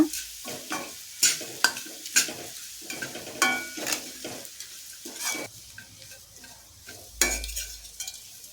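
Green chillies frying in a pan for coconut rice, bursts of loud sizzling as a spoon stirs and scrapes, close and uneven with clear pauses between strokes and no talking.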